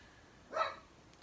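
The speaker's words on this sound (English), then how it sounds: "my dog's barking" A dog gives a single short bark in the background, fairly faint and brief, with quiet room tone around it.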